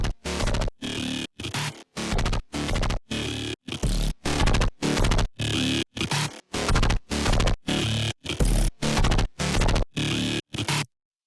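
Mid-tempo electronic music drop played back, built from loud, chopped bursts of gritty bass and noise separated by abrupt silent gaps in a steady stuttering rhythm, ending in a brief pause.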